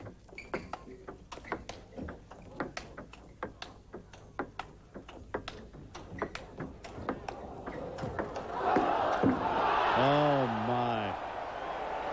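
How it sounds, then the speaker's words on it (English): During a men's table tennis final at Queen Elizabeth Stadium in Hong Kong, steady ball ticks of a rally are followed by a loud swell of crowd cheering and applause, with a voice heard over the noise. "The crowd here at the Queen Elizabeth Stadium is loving it."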